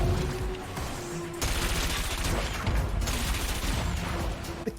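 A cannon weapon fires in a futuristic racing game, loud blasts over a steady engine drone with two sharp onsets partway through and a rumbling, crackling texture throughout.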